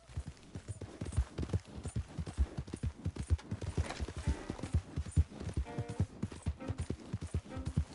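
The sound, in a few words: horse galloping in Red Dead Redemption 2 video game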